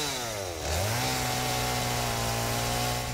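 A chainsaw in the video game Satisfactory revs up and then holds a loud, steady buzzing drone while it cuts down a tree, with no other sound over it.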